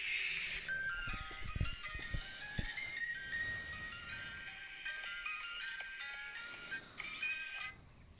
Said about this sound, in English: You heard the ice cream truck, right?